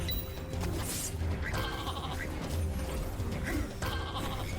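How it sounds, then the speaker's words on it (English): Pigs squealing and bleating as they are killed in Legendary Hoplite, repeated shrill animal cries over clanking, crunching combat noise, loud and close. "Oh right, they're killing pigs."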